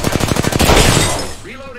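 Rapid automatic gunfire from an Apex Legends match, a quick burst of close, loud shots in steady rhythm that gives way to a lingering rumble and a faint synthetic tone.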